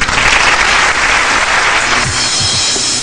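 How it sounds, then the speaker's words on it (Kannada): A concert audience at a children's singing show claps loudly and densely, a thick wash of applause holding steady throughout at close range. "ಆಡಿಯನ್ಸ್ ಗಳು ಚಪ್ಪಾಳೆ ಬರುತ್ತೆ"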